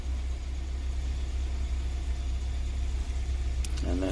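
A 2018 Hyundai Santa Fe Sport idles steadily nearby in park, a low constant engine hum with no revving, and a brief light clatter near the end.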